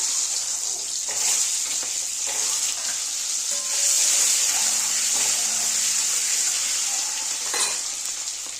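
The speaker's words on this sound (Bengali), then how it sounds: "তেলটা গরম হয়ে গেছে, আমি এবার ডিমগুলো ভেজে নিচ্ছি" Eggs fry in hot oil in a pan, giving off a loud, continuous hiss and crackle with no talking.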